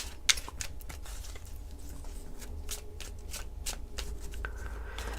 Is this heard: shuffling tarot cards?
yes